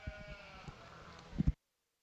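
Sheep bleat a few times amid scattered thumps and shuffling in the show ring at an open class sheep show at the Nebraska State Fair, then the sound cuts off abruptly.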